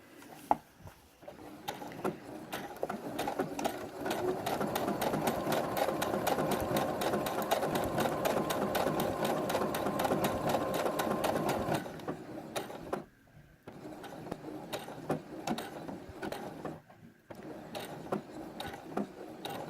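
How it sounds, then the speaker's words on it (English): A domestic sewing machine stitches a blanket stitch around an appliqué on a quilt, running in a steady fast mechanical rhythm for about twelve seconds, then pausing and resuming in short slower bursts, close and clear with no talk. "you'll just get to know your machine and which, at what time it's doing what part of the blanket stitch."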